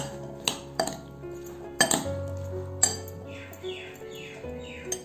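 A spoon clinks repeatedly against a metal pot while ghee is stirred into food, sharp irregular metallic taps at close range, with faint birdsong in the background.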